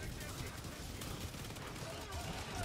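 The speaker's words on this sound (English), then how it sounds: "I'm liking the recoil of this rifle." Rapid rifle fire rattles in a video game battle, a dense, steady stream of shots with a rough, noisy texture that continues throughout under faint voices.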